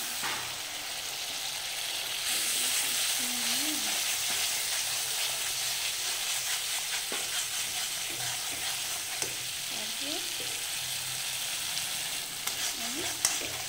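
Masala is sautéed in oil in a frying pan, the oil spattering. A continuous close hiss and sizzle is broken by occasional scraping stirs.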